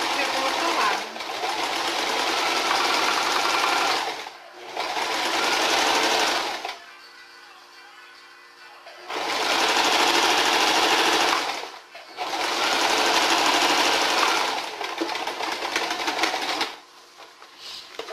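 A sewing machine stitches a fabric strip onto a tea towel, running in four loud, rapid whirring bursts separated by short pauses.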